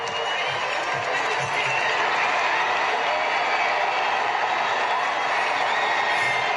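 Large outdoor crowd at an Olympic flame arrival ceremony in France, the flame carried by sea, sends up a steady, dense roar of cheering and noise that holds loud and unbroken throughout.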